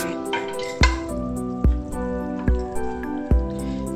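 Pepper sauce for black jollof rice cooks on very low heat in a pot, giving regular soft drips and bubbling pops about once a second over a steady simmering background.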